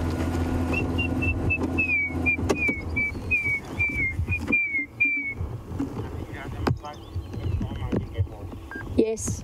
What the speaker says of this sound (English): all of these grey hornbills that we can hear whistling